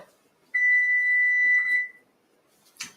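A kitchen timer beeps while pizza muffins bake, sounding as one steady electronic tone of about a second and a half, followed after a pause by a short clatter.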